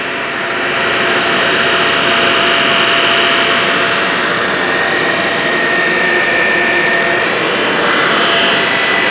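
A Shark Navigator Lift Away Zero M vacuum cleaner runs on carpet with a loud, steady, close roaring whine that holds evenly throughout.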